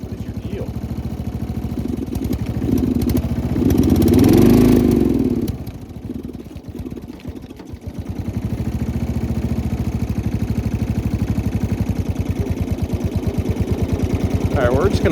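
A snow blower engine idles roughly in a yard, with a steady rhythmic chug that swells into a louder surge partway through before settling back to an even idle.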